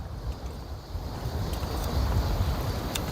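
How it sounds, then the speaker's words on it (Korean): Strong wind at a fishing spot buffets the microphone with a heavy, steady low rumble and gusty roar, growing louder toward the end. No voices are heard. "오늘 바람이 좀 세네요"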